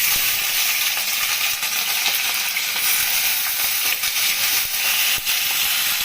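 Onions hit hot oil tempered with cumin seeds for a spicy prawn and potato curry, producing a loud, steady sizzling hiss with bright crackle, constant and close, with a few faint stirring scrapes and no talking.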